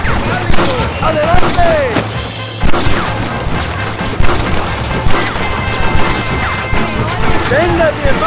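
Loud, close gunfire in the Red Dead Redemption video game, with repeated sharp shots and volleys, crashes and impacts running throughout, while voices shout over the battle.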